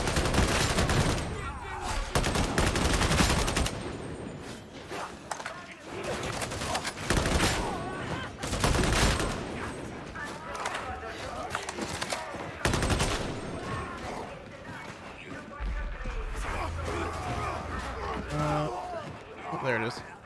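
Dense gunfire and bursts of combat noise fill a chaotic battle in Warhammer 40,000: Darktide, loud and continuous with rapid shots and impacts, while players talk over the action.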